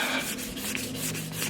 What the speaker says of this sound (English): we're going to get our sanding blocks, we're going to wrap it in sandpaper